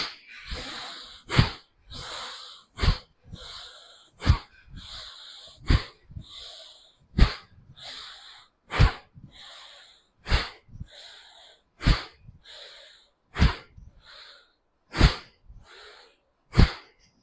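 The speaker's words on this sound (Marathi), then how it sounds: "घेऊया श्वास." Pranayama breathing exercise through the nose: a steady series of about a dozen sharp, forceful breaths, roughly one every second, close and clear with no talking.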